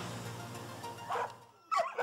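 Dogs bark at a crowded dog shelter in Vršac, Serbia, a few sharp, fairly close barks and yelps rising over a murmuring background after a brief lull.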